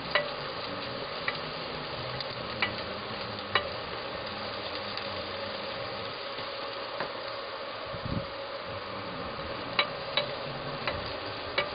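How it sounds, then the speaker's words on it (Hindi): Onions turning light pink in a pan, a soft steady sizzle close by, punctuated by sharp periodic taps and scrapes of a spatula as they are stirred continuously, with one low thud midway and no talking. "हमें प्याज को लगातार चलाना है ताकि प्याज वो लगे ना पैन से"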